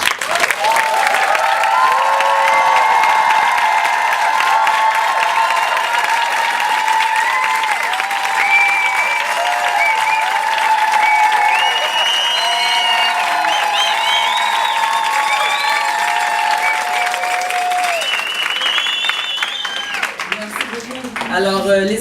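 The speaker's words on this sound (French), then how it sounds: "Alors, les applaudissements" Sustained audience applause fills a press conference on a teachers' union filing of sector demands, loud and steady for about twenty seconds with voices mixed in before it fades near the end.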